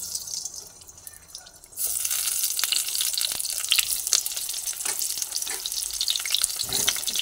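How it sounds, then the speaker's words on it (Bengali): Pointed gourd (potol) pieces dropped into hot mustard oil set off a sudden bright sizzle partway through, which continues with close crackling and spitting pops. "তেল গরম হয়ে গেছে, এবার পটলগুলোকে তেলের মধ্যে দিয়ে দিচ্ছি।"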